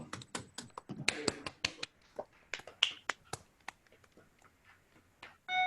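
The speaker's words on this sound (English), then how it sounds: "I shall unmute all of us to express our applause" Scattered claps from an online audience unmuted on a video call for a lecture; sparse, crisp and irregular, thinning out to near quiet before a final burst of noise.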